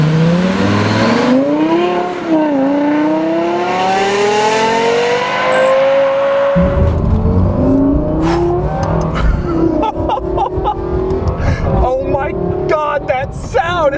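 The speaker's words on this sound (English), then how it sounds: "That sound, it's like a Formula One car." Lexus LFA supercar V10 revving hard while driving, a shrill, rising wail that climbs steadily in pitch, drops, then fires off a rapid series of sharp revs and gear changes, loud and close.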